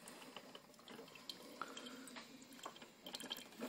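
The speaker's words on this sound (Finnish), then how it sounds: "kahvi alkaa tippumaan ja se tippuu suoraan mukiin" Coffee drips straight into a mug from a taped-open drip stop, soft irregular drips and a faint trickle heard up close but quietly.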